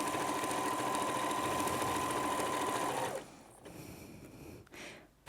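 Sewing machine stitching fabric for a beginner's pouch, a steady, loud mechanical whir running continuously for about three seconds before stopping, followed by quieter handling noises.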